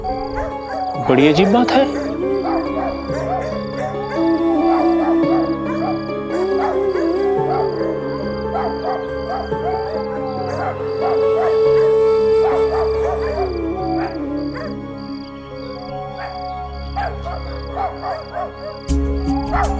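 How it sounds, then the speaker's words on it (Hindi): Several dogs howl and wail together in long, rising and falling cries, loud and sustained, with a voice speaking briefly amid the howling. "ये सारे कुत्ते एक साथ रो क्यों रहे हैं?"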